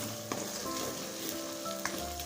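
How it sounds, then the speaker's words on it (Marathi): Chilli powder, turmeric and salt sizzle in hot oil for a chicken dish, a close, steady frying hiss with a couple of faint spoon taps. "तेलामध्ये कडसू द्यायचं तिखट मीठ हळद बघा छान कडसला आहे तिखट मीठ हळद तेलामध्ये"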